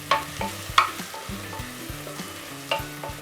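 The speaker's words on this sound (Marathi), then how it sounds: "आले लसूण पेस्ट टाकूयात आणि मिरची व्यवस्थित परतून घेऊया" Green chillies and ginger garlic paste sauté in a pan with a steady sizzle. Sharp clinks and scrapes of a stirring spoon punctuate it, heard up close.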